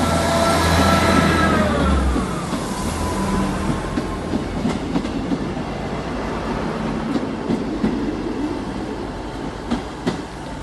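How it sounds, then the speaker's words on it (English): A Great Western Railway class 158 diesel unit at Exeter St David's station, a droning engine fading as the train moves off, followed by steady rumbling and clicking of wheels over rail joints, fairly close, with no speech. "it's the Great Western Railway service to Barnstable"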